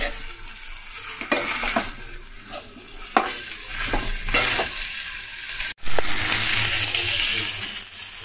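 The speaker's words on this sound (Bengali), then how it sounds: "চলো ভালো করে কষিয়ে নিই।" Curry with spices sautéing in a pan: a steady sizzle with repeated scraping stir strokes and occasional metallic clinks, a sharp clatter near the end followed by louder continuous frying, no voices.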